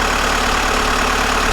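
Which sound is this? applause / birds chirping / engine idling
engine idling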